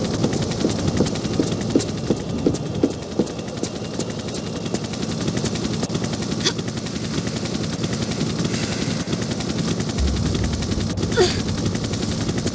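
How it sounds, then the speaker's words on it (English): A helicopter in the Tomb Raider video game makes a continuous, fairly loud rotor chop with a steady rhythmic thudding and a broad whooshing roar, heard alone with no voices. "I'd better get the copter out of the line of fire"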